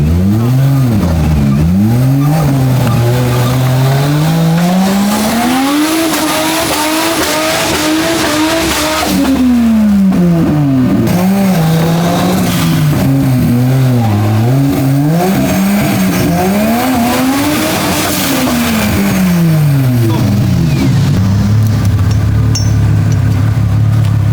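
A modified Suzuki Samurai off-road vehicle revs hard and close, its engine pitch rising and falling in repeated long surges, with tires spinning and faint voices in the background.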